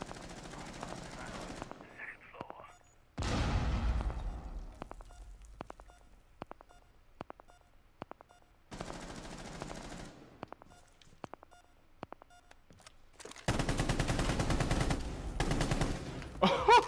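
Machine-gun fire in Rainbow Six Siege: sharp rapid bursts and a run of spaced single shots, loud and close, broken by quiet gaps between volleys.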